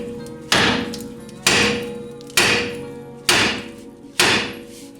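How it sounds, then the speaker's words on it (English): A hammer strikes the upper ball joint stud on a 1993–98 Jeep Grand Cherokee ZJ five times in an even rhythm, each sharp metallic blow ringing out and then decaying. "So let me hit this top one a couple times."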